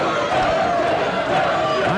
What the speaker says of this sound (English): I'm sure you can hear the crowd behind us yelling, "Dungeon, Dungeon."